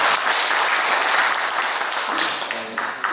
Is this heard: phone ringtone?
no